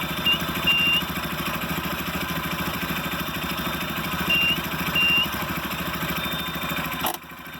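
A motorcycle engine idles steadily with a dense low putter while being shifted in and out of gear, with slight rises in revs and a clunk near the end.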